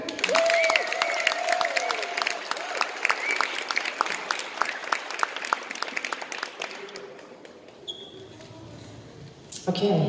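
Enthusiastic audience applause for a singer at a live music gig, dense clapping with some cheering that builds strongly, then thins out and fades toward the end before a brief renewed burst.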